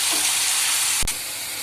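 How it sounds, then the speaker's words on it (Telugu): Green chillies frying in oil in a pan, a continuous hiss and sizzle that drops sharply after a brief bump near the end. "పచ్చిమిర్చి చీరుకులు బాగా వేపుకోవాలి."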